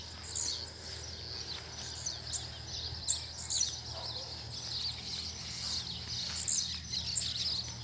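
A wild coleiro pardo seedeater calls outdoors with thin, high chirps and short tweets scattered over faint background hum, fairly distant and soft.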